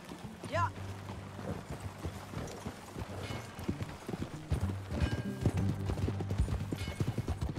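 Horse hooves clip-clop in a steady riding rhythm in Red Dead Redemption 2, close and distinct, beneath in-game voices talking and a low musical score.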